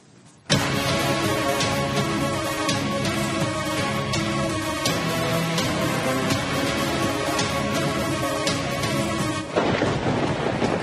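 Heavy rain pours down during a thunderstorm in Bengaluru, a dense, loud roar that begins abruptly after half a second and holds steady to the end, shifting slightly near the close.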